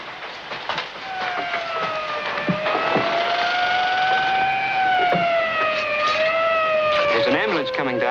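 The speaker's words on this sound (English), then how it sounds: "There's an ambulance coming, Doctor." An ambulance siren wails, rising and falling over steady rumbling traffic noise, fairly close and continuous throughout.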